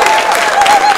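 A short burst of loud audience clapping for a musician, thick and close, with a thin whistle-like tone running through it.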